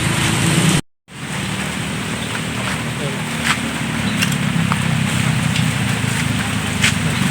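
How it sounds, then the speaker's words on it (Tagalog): Heavy rain falls steadily at a kubo campsite, a dense continuous hiss broken only by a brief gap, with a voice speaking over it. "Yan, napakalakas ng ulan."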